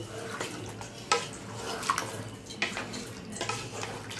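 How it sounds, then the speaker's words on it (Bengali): Chicken kosha with potatoes being stirred in a pan: soft wet scraping and shuffling strokes, a few sharper clacks of the spoon against the pan, close and fairly quiet. "এখন আলুটা দিয়ে কিছুক্ষণ আর কষাবো"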